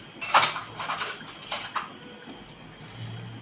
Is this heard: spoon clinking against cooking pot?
yes